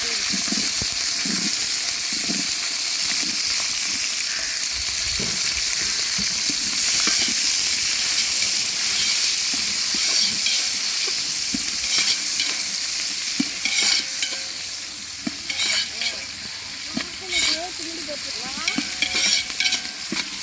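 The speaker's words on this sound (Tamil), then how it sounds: "நல்லா வெங்காயம் சவந்து வரட்டும் வதக்கி விட்டுப்போம்" Onions, curry leaves and green chilies fry in hot oil in a pan for a chicken gravy, a loud continuous sizzle broken by scraping stirs, with faint speech near the end.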